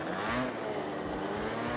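A stock 50cc scooter engine revs hard in a continuous, buzzing whine as the rider pops a wheelie, loud and close throughout.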